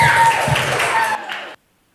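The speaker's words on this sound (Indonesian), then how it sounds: "Boleh tepuk tangan untuk semuanya." Audience applause breaking out in a hall, a burst of dense clapping mixed with crowd noise that carries on steadily before cutting off abruptly after a second and a half.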